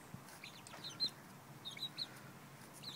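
Chickens eating zucchini seeds outdoors let out a few soft, scattered clucks and chirps against a quiet background hiss.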